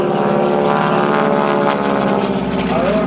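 A propeller airplane flies at an air show, its engine a loud, continuous droning roar with a steady buzzing pulse, close and unbroken throughout.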